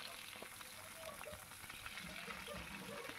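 Pointed gourd frying in mustard oil while being turned over, a faint, steady sizzle and crackle with soft stirring sounds throughout, quiet and close, with no talking.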